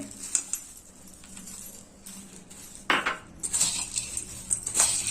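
Crunchy farsan snack mix tumbles into a metal bowl of puffed rice, tomato and onion for bhel, giving a light rattling rustle with a few sharper clinks, close up and alone without any talk.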